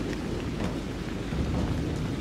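Steady rain with a low thunder rumble from a thunderstorm in the horror game Haunted Memories, a dense, even wash of noise with no break and no talk.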